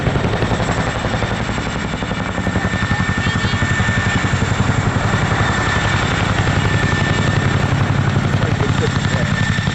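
An RAF Chinook twin-rotor helicopter flies at an airshow during an underslung load drop demonstration, its loud, continuous rotor thump and engine roar filling the air throughout.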